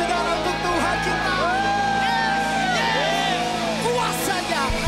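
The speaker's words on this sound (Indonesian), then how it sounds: "Tepuk tangan saudara untuk Tuhan kita." A church congregation at a Sunday worship service claps and cheers in a steady, dense wash of applause and whoops, with sung or shouted voices rising and falling above it throughout.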